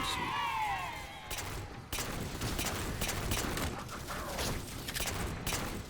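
Gunfire in the video game Halo 4, repeated sharp shots and bursts in rapid clusters after an opening stretch of chatter-like tones, fairly close and steady.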